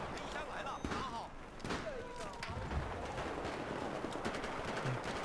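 Gunfire in Battlefield 4 Hardcore Mode: rapid machine-gun bursts and sharp shots mixed with thuds and impacts run continuously at moderate loudness, with a player talking over the action.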